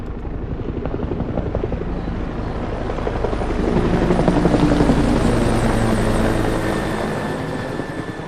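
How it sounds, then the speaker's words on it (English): A helicopter flies close by, its rotor chop a continuous dense thumping that swells louder near the middle and eases off slightly toward the end, with no talk over it. "I never would have imagined I'd be crashing a helicopter into the roof of a sex shop"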